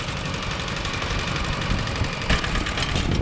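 A tractor engine chugs loudly and steadily during a ride along a road near Tha Khek, Laos, with a constant low knocking rumble, rattling vibration and a brief bump partway through.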